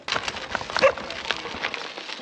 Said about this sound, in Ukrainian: А взагалі хочу сказати про собак в Румунії